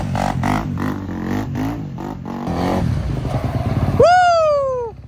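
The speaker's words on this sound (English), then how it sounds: "Give us a little wheelie in the parking lot." A 2024 Kawasaki KX250F dirt bike revs in a parking lot during a wheelie, its engine blipping and rattling in rough bursts before climbing into a loud, sustained high whine that holds and then cuts off.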